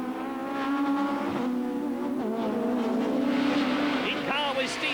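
Touring cars racing at Donington in 1992, including a black Nissan Primera, drone steadily through a corner with rising and falling engine notes and a brief squeal, heard under continuous commentary.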